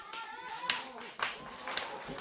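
A few separate hand claps at a wrestling show, faint and spaced, under a commentator's talk.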